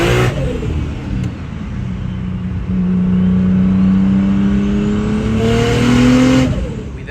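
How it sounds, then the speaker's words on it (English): A fully built BMW with a wastegate drives and revs, its engine note climbing and falling through gears in loud, steady pulls heard from inside the car. "Here's a clip of me taking the car out after on a wastegate."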